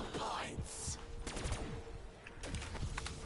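Rapid gunfire in Call of Duty Zombies Revelations, a busy clatter of fairly soft shots with muffled voices underneath.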